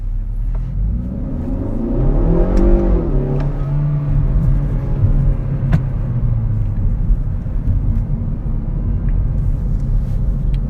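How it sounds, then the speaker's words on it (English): A 2020 Kia Forte GT pulls hard in first gear, its engine note loud and close with a rising rev sweep around the first few seconds, then settling into a steady, rumbling drone as the car keeps accelerating. "if you use the paddle shifters to get into gear 1, this is when the car really comes to life."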